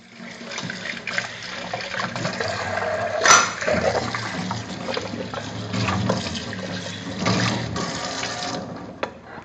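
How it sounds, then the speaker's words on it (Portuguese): Tap water runs steadily into a kitchen sink while dishes are washed by hand, with a brief clatter of dishware partway through. "Deixa eu lavar essa loucinha, eu não gosto de deixar a louça suja."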